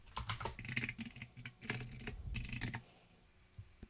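Fingers typing on a computer keyboard in quick, irregular bursts of crisp, close keystrokes, pausing briefly midway and fading to near quiet with one last tap, with no voices.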